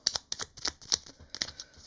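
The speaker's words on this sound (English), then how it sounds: "Let's give this a little shuffle if I can." Quick papery riffles and taps of tarot cards being shuffled, several short bursts in an uneven rhythm, close and fairly quiet.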